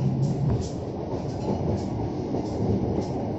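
A local train arriving at Cimekar station near Bandung rumbles steadily with low rolling noise and faint rhythmic wheel clatter, loud and close, no voices.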